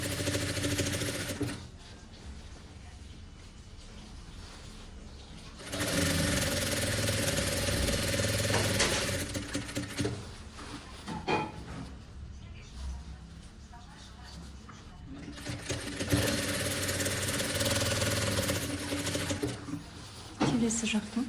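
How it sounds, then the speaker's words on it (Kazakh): A sewing machine stitches the collar of a vest in bursts of steady mechanical whirring, with quieter pauses between runs and a voice speaking in the background. "жағасын тігіп жатырмын"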